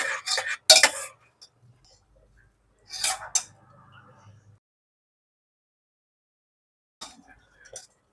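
A spoon scrapes and clinks against a pot while akkaravadisal is stirred with ghee, coming in a few short bursts separated by long near-silent gaps.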